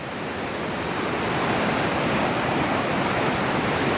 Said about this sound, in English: It's a smaller waterfall.